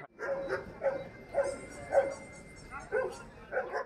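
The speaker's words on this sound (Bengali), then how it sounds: "আর ওখানে একটা রটহুইলার হচ্ছে" A Rottweiler barks repeatedly in short, evenly spaced bursts at a dog show, about seven barks over a few seconds, moderately close with some room echo.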